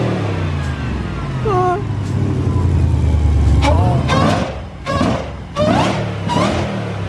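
A loud car engine revs and roars near a BMW E92 M3 among supercars, rising to a sustained high-revving blare before several sharp throttle blips, with people talking over and between the bursts.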